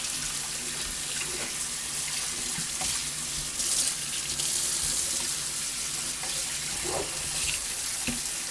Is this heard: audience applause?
no